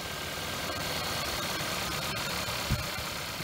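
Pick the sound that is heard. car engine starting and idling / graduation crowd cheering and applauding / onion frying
car engine starting and idling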